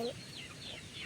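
A chicken gives a few short clucks, fairly faint and outdoors on a farm, over a steady wind-like background hiss from strong wind.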